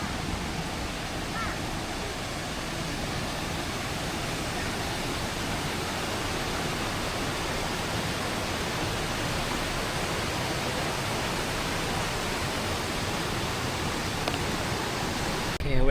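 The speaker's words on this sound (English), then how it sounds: "Now it's near waterfall." Steady, broadband rushing roar of a waterfall near Jiufen in the Taipei area, continuous and fairly close for the whole stretch, with no clear voices over it.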